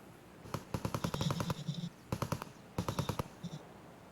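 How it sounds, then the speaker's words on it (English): Gunfire in Escape from Tarkov, several quick bursts of automatic shots in sharp rapid rhythm with short pauses between bursts, fairly close and loud. "I hear the gunshots"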